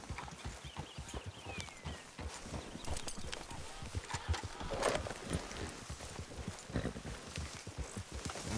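A horse gallops in Red Dead Redemption 2 on PC, its hooves hammering out a steady, fast clip-clop that stays up close and fairly loud throughout.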